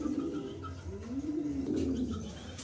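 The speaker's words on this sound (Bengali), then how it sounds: "এক পেয়ার টপ কোয়ালিটির এক পেয়ার লাহোরি কবুতর আছে" A pair of top-quality yellow Lahori pigeons coo in soft, rolling, repeated phrases, close and steady throughout, with no voices.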